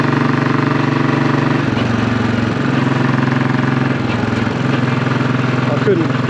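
A Royal Enfield-style Classic 500 single-cylinder motorcycle fitted with a Hitchcock's Goldstar exhaust idles loudly and steadily close by, its deep thumping drone continuous throughout with a couple of slight shifts in pitch.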